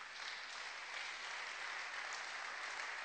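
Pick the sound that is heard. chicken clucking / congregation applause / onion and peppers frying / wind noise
congregation applause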